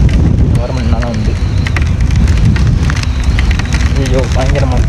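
Heavy spray lashes down at Gundaru Dam in Tenkasi during a boat outing, a dense, roaring wash with sharp spattering hits throughout while people talk over it.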